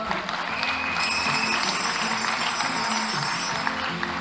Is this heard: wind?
no